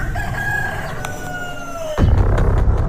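A rooster crows once in an animated Mr Meat horror story, where a man is turned into a rooster: one drawn-out, falling call, followed by a louder noisy burst.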